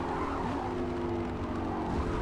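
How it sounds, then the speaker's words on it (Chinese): A racing car in a Forza race misjudges its braking point and skids, tires squealing in a sustained harsh screech over a loud engine drone for about two seconds. "由于误判刹车点，差点飞了出去"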